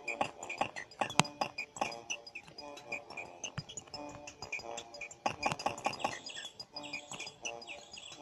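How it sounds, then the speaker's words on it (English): Chirping bird sounds in the LSD Dream Emulator video game, repeated bright tweets and calls over soft layered game music. "Bird?"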